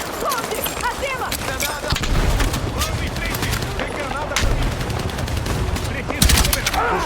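Sustained gunfire in the Battlefield 6 campaign night assault, dense bursts of rapid shots layered over each other, loud and continuous with a heavier blast near the end, while voices call out over the fighting.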